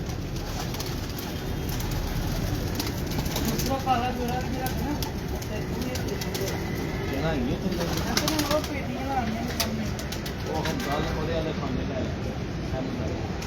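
Antique Ferozpuri pigeons coo and flap their wings in a Gowalmandi, Lahore loft, a steady busy murmur with bursts of wingbeats while someone talks over it.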